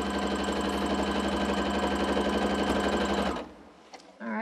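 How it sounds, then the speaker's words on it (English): A sewing machine stitches straight seams across a baby quilt top, a steady rapid mechanical chatter running for about three seconds before stopping, then a short quiet gap with a brief voice at the end. "I'm just gonna keep sewing some straight lines here."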